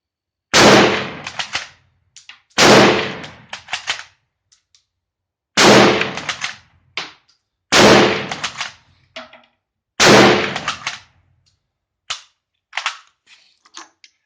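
A Turkish-used Gew 88/05 bolt-action rifle fires five loud, close shots in quick succession outdoors, each blast followed by the clack of the bolt being cycled, ending with a few lighter metallic clicks.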